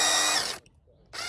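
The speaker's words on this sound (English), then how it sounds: "So I'm going to just drill this out." A power drill bores out a stiff screw on a shower handle, running in a loud, high-pitched whirring burst, stopping briefly, then starting again, close up with no voices.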